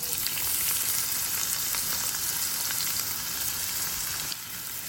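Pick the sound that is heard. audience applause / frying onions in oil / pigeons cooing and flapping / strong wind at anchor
frying onions in oil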